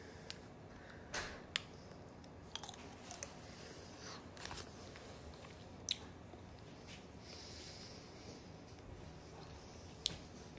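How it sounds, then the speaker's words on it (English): Someone eats boiled peanuts, peeling and chewing them close by. Soft squishy munching comes with a few sharp cracks and snaps spaced through a quiet background, and nobody talks. "I got the boiled peanuts. Let's give it a taste."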